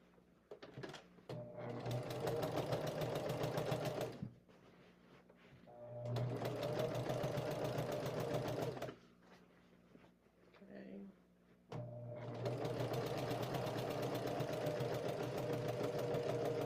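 A domestic sewing machine runs in three long bursts while quilting, a fast, even mechanical whir close up, separated by brief quiet pauses where the needle stops and the fabric is turned.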